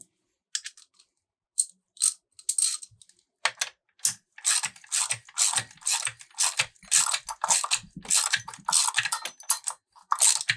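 A ratchet tightens a lock nut onto the drum of a donated chainsaw during reassembly, producing bursts of quick, close metallic clicking that grow denser and more continuous toward the end, with no talk over them.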